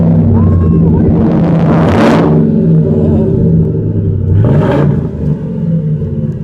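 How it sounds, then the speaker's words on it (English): A 1982 Ford F350 truck engine with Flowmaster exhaust fires up and idles with a deep, throaty exhaust rumble, then revs hard twice, loud and close. "start up his truck that has Flowmaster on it"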